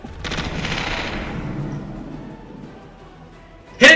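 Ship weapons fire in the space game Space Engineers: a sustained burst of rapid, booming shots for about three seconds that trails off, then a sharp loud crack near the end.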